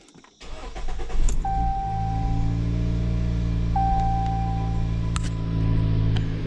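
A Jeep Cherokee Trailhawk with a failing alternator at 89k miles cranks briefly and fires, then settles into a steady close idle with a faint whine and a few clicks over the running engine.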